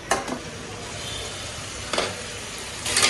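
Koi fish searing in oil in a pan, a steady close sizzle with a few brief stirring scrapes.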